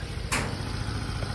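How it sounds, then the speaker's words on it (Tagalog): A Mio Gear 125 motorcycle engine upgraded to 135cc idling in a workshop, a steady low-pitched putter with even rhythmic pulses and a brief sharp click partway through. "Ayan yung tunog ng makina, pakinggan nyo."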